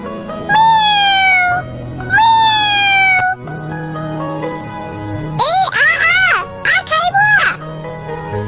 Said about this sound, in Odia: ବିଲେଇ ସାଙ୍ଗେ ସାଙ୍ଗେ ବାଘୁଣୀକୁ ଡାକିଲା।